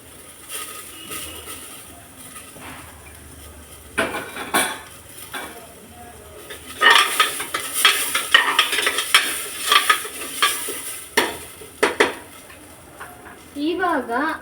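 Lentils sizzle in hot oil for a tempering for basale leaf sambar, stirred with a metal spoon against a pan, with loud scraping clinks and crackling frying that builds in the second half; brief voice sounds appear at the end.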